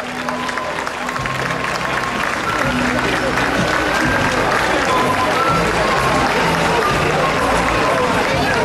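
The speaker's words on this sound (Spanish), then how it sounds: "¡Arriba el aplauso!" Loud, sustained applause and crowd noise from spectators at a street parade of floats, dense clapping swelling and holding steady, with voices mixed into the cheering.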